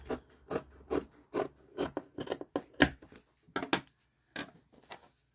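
Scissors snip through fabric just above pinned spots while making a magnetic bracelet, giving a quick series of crisp, close cuts in an uneven rhythm with short pauses between them.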